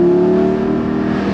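Porsche 718 Spyder engine revving in second gear, a loud steady mechanical drone held close by throughout with no speech over it.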